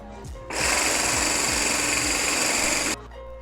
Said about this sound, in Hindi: अंडों को मैंने 2 मिनट के लिए बीटर की मदद से अच्छी तरह बीट कर लिया है।